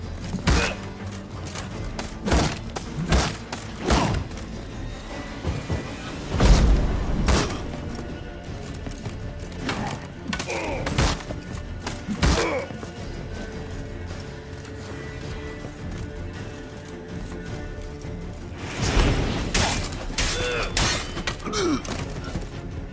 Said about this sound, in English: That explosion gets us in the vault.